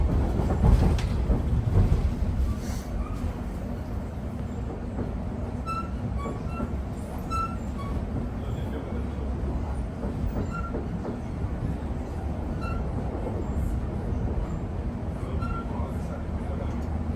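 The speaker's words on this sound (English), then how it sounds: "This is a Lioness Line train to Watford Junction." A London Overground Lioness Line train running between Wembley Central and North Wembley, heard from inside the carriage: a steady rumbling roll with faint wheel squeals and clicks, and an onboard announcement voice partly over it.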